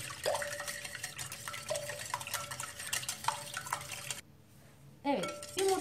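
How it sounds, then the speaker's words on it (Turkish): Six eggs are being whisked in a bowl, a busy stream of quick clinking taps against the bowl running steadily, breaking off briefly near the end and then resuming, with a faint ringing tone underneath. "6 adet yumurtamızı kabımıza kırdım ve güzelce çırpacağım."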